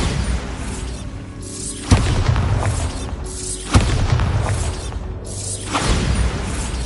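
A Bombarda explosion spell in the video game Hogwarts Legacy goes off repeatedly, with sharp booms about two seconds apart over a continuous heavy rumble, loud and close.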